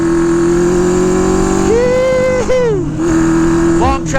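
A Honda CB550 Four chopper motorcycle rides along with a loud steady engine drone that rises in pitch as it revs, then drops off and settles again, with wind noise and a voice calling out.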